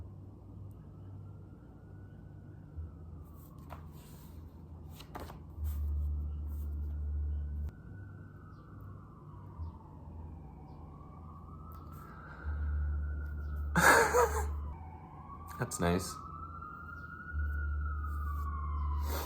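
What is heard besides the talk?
police siren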